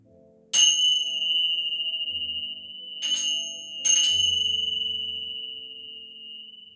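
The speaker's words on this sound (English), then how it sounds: "absorb the vibrations of the bells" Bells ring at the close of a hatha yoga session, three clear metallic strikes, each leaving a long, pure, slowly fading resonant tone that overlaps the next, loud and near in a quiet room with no talk.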